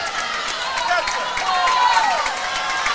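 Spectators at a swim meet's senior night cheer and yell in a steady, bright crowd roar, with individual shouts and whistles rising over the din throughout.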